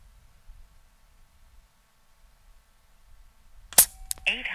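A single sharp shot from an AirMaks Katran Long .25 caliber air rifle cracks near and loud near the end after near silence, followed by a brief metallic ring.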